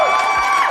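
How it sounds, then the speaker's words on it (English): A short, loud burst of crowd cheering and applause plays alone as a sound effect, fading slightly at the end. "I actually got to give you some claps there."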